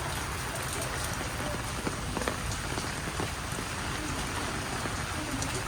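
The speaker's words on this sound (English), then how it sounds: "I quite enjoying walking in the rain" Steady rain falling outdoors while walking near Hoan Kiem Lake and Ngoc Son Temple in Vietnam, forming a dense, even hiss with scattered close drop taps throughout and no talking.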